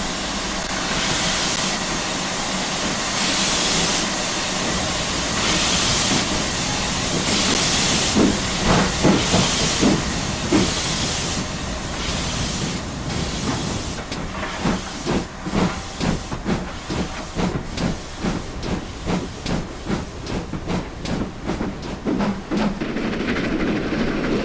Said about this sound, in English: Two engines set out from a station heading to Newton Abbot